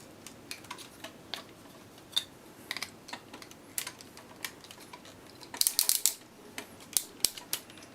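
Plastic parts of a Revenge of the Fallen Leader-class Optimus Prime transforming toy clicking and snapping as they are handled, a run of small, fairly quiet ticks and clacks with a denser cluster of sharp clicks partway through.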